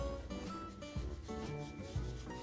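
Dry cure mixture is rubbed by hand into a raw pork belly for bacon, producing steady close scraping and rubbing with a few heavier pushes and no talking.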